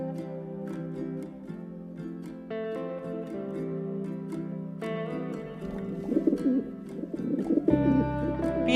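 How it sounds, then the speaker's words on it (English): A pigeon coos in soft, low, repeated calls, heard under steady, gentle background music that carries on throughout. "Pigeon means कबूतर."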